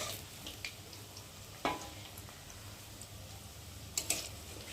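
Chicken pakoras fry in hot oil with a soft, faint bubbling sizzle, broken by a few light clicks and taps as pieces are turned.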